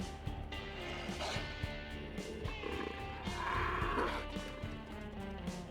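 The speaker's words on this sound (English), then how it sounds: "There's a cougar." A cougar in WolfQuest giving low rumbling purrs and growls, moderately close, with a louder snarling swell partway through over soft ambient game sounds.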